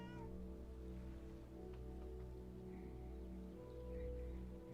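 A studio cat gives a couple of faint, brief meows against a constant low hum in a quiet room, with no one speaking.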